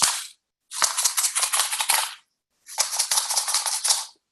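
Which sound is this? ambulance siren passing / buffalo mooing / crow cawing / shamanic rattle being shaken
shamanic rattle being shaken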